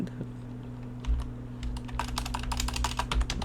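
Keys clatter on a computer keyboard, a few scattered taps at first and then a quicker, denser run of close typing over a low steady hum.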